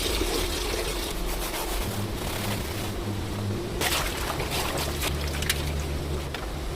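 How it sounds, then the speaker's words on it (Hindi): Running water splashes over and washes the plastic body of an old Bluetooth speaker, a steady close rush of flow with brief brighter splashes and rubbing, no talking. "अब सिर्फ बॉडी को मैं अच्छे से धो के लाता हूँ"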